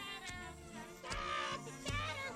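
A cat meows repeatedly at moderate distance, several drawn-out harmonic cries with brief sharp sounds between them, faint and alone with no talking.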